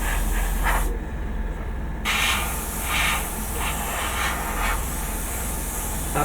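Black primer airbrushed onto a Mobius Models USS Franklin model kit: a continuous close hissing spray with brief pulsing surges and a short break, fairly loud, no talk.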